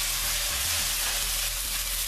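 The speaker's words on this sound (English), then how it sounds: "Onions are pretty sizzling here." Crushed onions sizzle loudly in a hot frying pan, a dense continuous hiss held steady and close with no voices.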